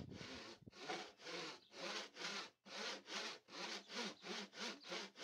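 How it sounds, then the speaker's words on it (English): Hand saw cutting wooden tenons for a bench, about a dozen rhythmic back-and-forth rasping strokes, close and fairly quiet, with a brief pause midway. "Then I made sure that I cut them down to the lines, as you will hear in just a second."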